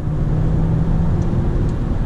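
A car accelerating on a highway after a paddle-shift downshift, with a steady, loud engine drone and road rumble throughout.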